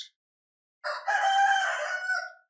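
Rooster crowing in a video game, a single loud cock-a-doodle-doo lasting about a second and a half after a brief chirp and a short silence.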